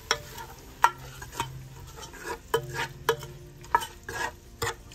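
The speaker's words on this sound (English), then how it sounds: "We're gonna stir it with all this bacon, onion, and garlic" Salsa with vegan bacon, onion and garlic stirred in a hot pan: repeated scraping strokes and clacks of a utensil against the pan over a low sizzle, close and uneven in rhythm.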